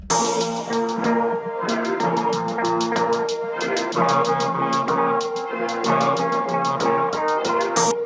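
A crisp hi-hat pattern of rapid, evenly spaced ticks, one of two doubled hats, runs over sustained synth chords in a trap-style beat, bright and upfront throughout without any talking.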